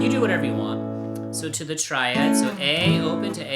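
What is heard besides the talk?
No distinct noise like a dog, phone or traffic.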